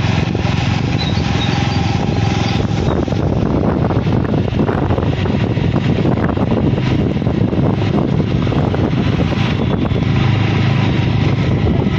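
A motorcycle being ridden, heard as a steady loud roar of wind buffeting the microphone over a low engine drone. It runs without a break and no one speaks.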